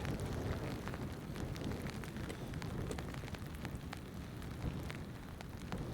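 Steady rain pattering on a surface during ice fishing, a dense continuous hiss with scattered sharper drop taps throughout, close and fairly loud with no talk.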